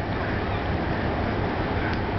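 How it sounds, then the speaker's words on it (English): A huge cargo boat moves along the River Main in Frankfurt, heard as a broad, steady rumble and wash mixed with wind noise, with no clear rise or fall. "at this huge boat going along the river"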